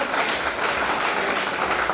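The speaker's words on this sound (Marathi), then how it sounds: "शरद आपटे सरांनी आपण जोरदार टाळ्या वाजवा" Loud, sustained applause from an audience at a bird festival seminar in Paithan, a dense wash of clapping that continues steadily throughout.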